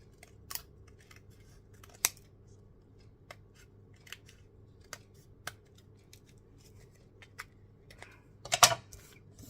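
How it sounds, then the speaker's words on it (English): Scissors snipping off excess paper in a craft project, sparse sharp cuts spaced a second or so apart, with a louder cluster of snips near the end. "Cut off the excess here and there."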